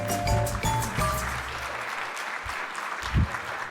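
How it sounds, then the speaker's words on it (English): An audience applauds a U.S. congressman at a freethought event, a dense clapping wash mixed with tonal hum and background noise, settling toward the end. "yes, he deserves applause"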